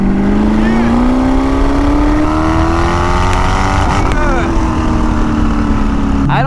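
A Boss Hoss V8 motorcycle pulls hard on a test ride, its engine note climbing steadily and droning loud and continuous with heavy wind rush, then shifting down near the end.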